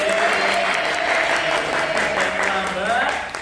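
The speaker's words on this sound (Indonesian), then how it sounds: "Tepuk tangan dong untuk kelas ini." A classroom of students applauding together, a dense, steady clapping that lasts a few seconds and fades slightly at the end, with some voices mixed in.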